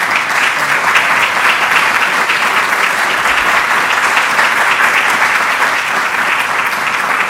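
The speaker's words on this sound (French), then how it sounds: "Alors, je pense que vous méritez des applaudissements." An audience at a conference opening applauds warmly, a dense, even wash of clapping from many hands that stays loud and steady from start to finish.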